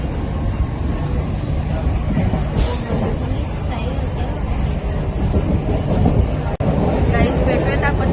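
Inside a moving Mumbai local train running from Panvel to Dadar, a constant loud rumble and rattle of the carriage fills the space, with faint background voices and a brief sharp clack near the end.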